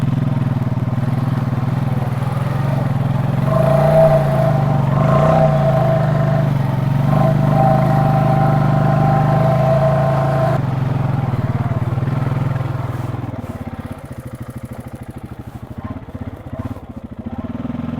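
A Honda off-road vehicle stuck deep in mud, its engine revving hard in a loud, close, sustained roar that wavers in pitch, then drops to a rougher, uneven idle near the end.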